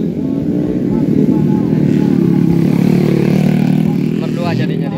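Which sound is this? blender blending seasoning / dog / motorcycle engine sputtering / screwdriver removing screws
motorcycle engine sputtering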